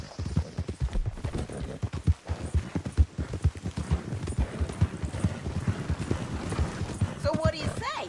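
Horse hooves gallop in a quick, steady clip-clop rhythm, close and continuous, with a faint voice and a brief whinny near the end, in the video game Red Dead Redemption 2.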